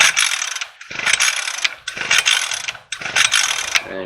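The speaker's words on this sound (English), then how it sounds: "And James, he's running the auger." An auger drilling planting holes for Christmas tree transplants in a field, rattling and grinding mechanically in four close bursts separated by short pauses, with no talk.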